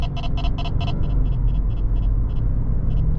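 A 2015 Mercedes ML63 AMG W166 drives along with a loud, constant low engine rumble, while a series of rapid electronic chimes pulses over it at first and then slows.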